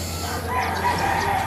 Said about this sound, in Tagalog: Mga manok? mga manok natin.